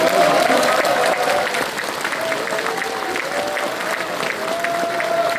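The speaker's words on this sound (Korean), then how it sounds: "여러분들 한번 박수로 격려해 주시기" A large hall audience at a book-launch event for a provincial governor bursts into sustained, dense clapping that stays loud and even throughout, with some faint voices mixed in.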